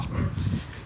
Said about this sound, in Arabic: شوفوا معايا كاين واحد الكلب تما